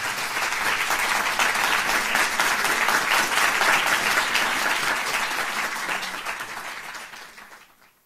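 A concert audience in Wattrelos applauds a singer, loud dense clapping that holds steady for several seconds before fading away at the end.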